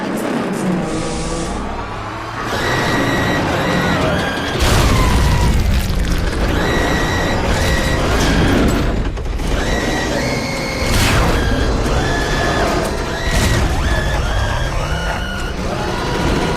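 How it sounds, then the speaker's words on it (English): Heavy booming shots and mechanical clanks from the railgun and slingshot in Metal Gear Solid Peace Walker fire repeatedly against the Peace Walker, loud and dense, with rumbling impacts and whirring machinery between bursts. "This poor Peace Walker got shredded by the railgun and then the slingshot."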